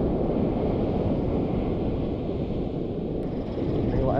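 Strong wind roars steadily across the microphone outdoors during a fishing outing, a dense, loud low rumble that holds without a break and with no voices.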